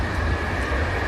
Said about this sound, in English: And there's another train coming.